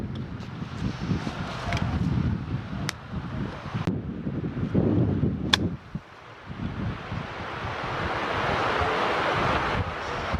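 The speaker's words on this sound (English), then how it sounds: "Wind's picked up quite a bit" Wind blowing across a golf course, a steady rushing buffet against the microphone that rises and falls, with a few faint clicks and a brief dip midway, no talk.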